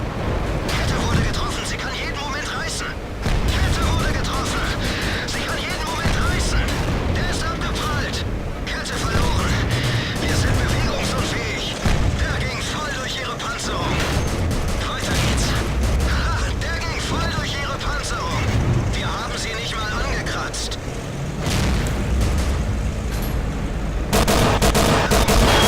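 Video game gunfire aimed at tanks, with dense rapid shots and booming blasts going on throughout, while a voice talks over the firing.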